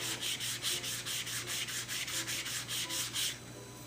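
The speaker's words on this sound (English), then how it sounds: "I'm going to come in with the sponge and just go over that." Steady back-and-forth strokes of a sponge rubbing over inked paper, about a dozen in quick rhythm, close and moderately loud, then stopping near the end with a low hum underneath.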